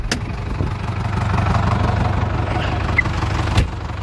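A tractor engine idles steadily in neutral at low pitch, with a faint brief click partway through and a small bump near the end.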